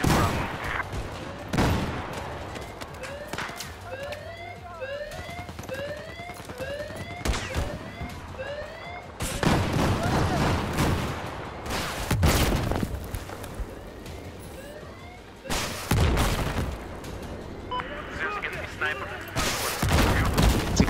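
Battlefield 4 gunfire from a Swagnum (Daedal) in a firefight, with repeated loud gunshot bursts and fusillades at varying distances, some close and heavy, mixed with game chatter and background combat noise.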